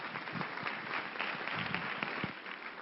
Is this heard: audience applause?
yes